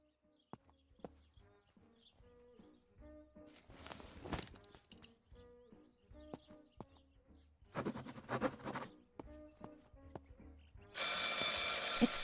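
A telephone rings in Martha Is Dead, sounding in repeated bursts among quieter footsteps and clatter, followed by a loud continuous noisy burst at the end.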